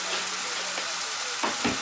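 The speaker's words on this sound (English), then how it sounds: "I'll give that a bit of a stir so get it distributed" Chopped tomatoes are stirred in a hot pan. A steady close sizzle runs throughout, with a couple of soft scraping strokes near the end and no talking.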